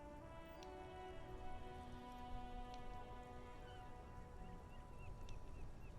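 Steady rain falls in the video game Disco Elysium, a constant patter with soft tonal background music and a few faint chimes over it.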